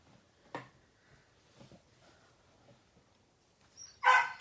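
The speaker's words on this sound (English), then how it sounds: "I have to go let my dog in." A dog barks to be let in, with a few faint yips and whimpers followed by one louder, closer bark at the end, in an otherwise quiet indoor room.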